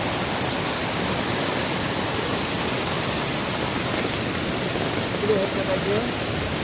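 Floodwater of a swollen Konkan river rushing over stones, a dense continuous roar close by, with a faint voice briefly near the end.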